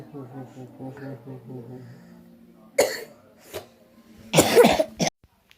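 Talking fades out, followed by a few sharp, close coughs with brief pauses between them.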